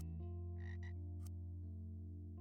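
A virtual frog in a frog-feeding video game croaks when clicked: two quick, raspy croaks and a brief click sound over a steady low droning background, with no one speaking.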